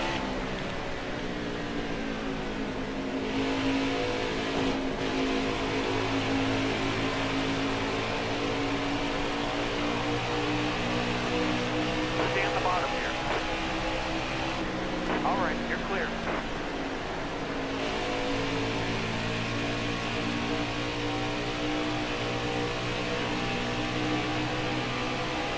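NASCAR Heat 4 race cars circle Darlington Raceway, a continuous droning engine roar with shifting pitch, fairly loud and steady throughout, with brief faint higher revs from passing cars.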